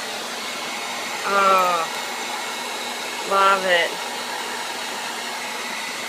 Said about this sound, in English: You can't hug the blow dryer.